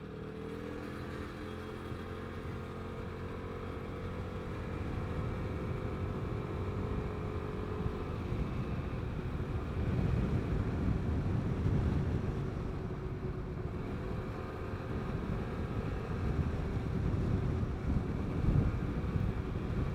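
A Vespa GTS 300 scooter on the road, its steady engine drone and heavy wind rush filling the ride continuously, rising slightly midway with no talking.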